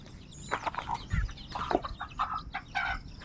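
Chickens cluck in soft, irregular bursts while eating at a farmyard feeding spot in the Philippines, with scattered pecking and a few higher bird calls. Fairly faint and close, with no talk.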